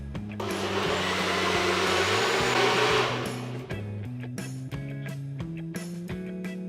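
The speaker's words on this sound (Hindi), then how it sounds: "अच्छे से ब्लेंड कर लेना है।" A kitchen blender purees mango, milk and other ingredients for mango halwa, starting with a loud, steady whir that drops away after about three seconds into lower, shifting motor tones with short bursts, and no voices.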